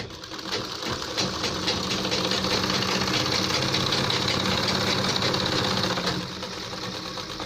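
Sewing machine stitching a ladies' kurta, running in a steady, loud, continuous whir with fine rapid needle rhythm for most of the stretch before easing off near the end; no talk.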